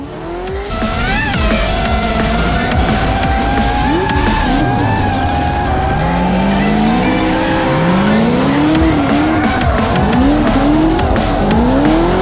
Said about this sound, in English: Supercharged LS3 unter der Haube, 700 PS, die er jetzt voll durchzündet